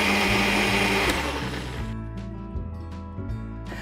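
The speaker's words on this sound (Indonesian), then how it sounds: "Oke, sekarang siap untuk dihaluskan ya." An electric blender whirs loudly while grinding spices for Padang-style gulai cincang, running hard for about two seconds before winding down into rattling, clattering spin-down noises.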